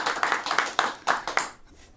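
Sparse audience clapping at a live music session, a small group with distinct, irregular claps that stop and fade after about one and a half seconds.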